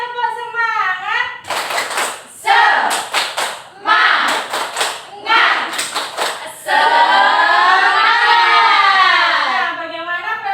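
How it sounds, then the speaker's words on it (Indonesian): Schoolchildren in a classroom perform a rhythmic spirit clap, with short bursts of quick clapping patterns alternating with chanted children's voices, ending in a sustained group chant. "Ayo semuanya tepuk semangat."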